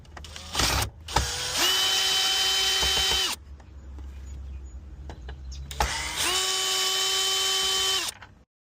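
A power drill whirs in two sustained bursts while removing screws during windshield replacement on a Mercedes-Benz S550 convertible, each run rising to a steady high whine before cutting off, loud and close.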